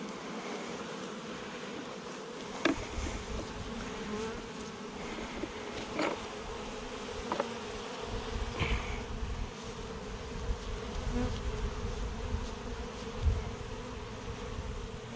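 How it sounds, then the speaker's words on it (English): Honey bees buzz steadily around stuck-together hive comb frames during removal, a dense close swarm drone with a few louder passes as individual bees fly near. "we decided to try and brush the bees off to see if they would go back into the hive"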